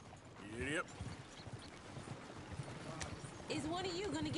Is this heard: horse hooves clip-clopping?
yes